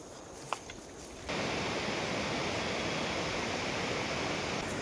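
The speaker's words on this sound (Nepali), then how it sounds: "खोला चाहिँ यहाँ छ" A flowing stream at Doorkhola, where local fish are caught, rushes steadily and fairly loud after a quieter opening second, a continuous broadband roar of running water.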